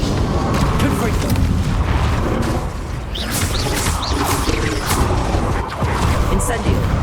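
Confringo spell blasts go off in the Hogwarts Legacy video game, a loud, dense barrage of booming explosions and crackling bursts during a fight, with the spell names called out over the din.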